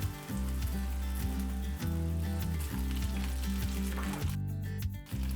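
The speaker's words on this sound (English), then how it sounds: "I'm going to add some oil to another pan. And I'm going to start adding my zucchini. Skin side down." Zucchini laid skin side down in a hot oiled pan, a loud, continuous close sizzle and hiss with steady humming underneath, briefly dipping near the end.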